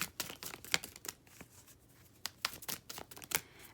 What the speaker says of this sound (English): I'm going to do my best to shuffle on camera